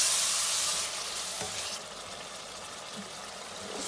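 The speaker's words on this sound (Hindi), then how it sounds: "ये टमाटर है और ये हरी मिर्चें भी ऐड कर दी हैं और इसको 5-7 मिनट के लिए अच्छे से भूनेंगे" Tomatoes and green chillies fry in a pan of aloo gobi masala with a loud, continuous sizzle close up, and a brief stirring scrape partway through.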